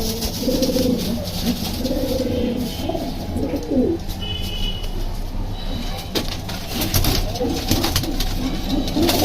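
Racing pigeons back at their home loft after a 31-kilometre tournament flight, soft repeated cooing close by amid rustling and background noise.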